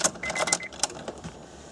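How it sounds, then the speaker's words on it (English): A bunch of keys jangles briefly up close, a few quick metallic clinks over a low background hum. "Grab the keys here."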